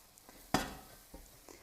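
A utensil scrapes once across a saucepan as a flour and butter roux is stirred, followed by a few soft taps and faint sizzling.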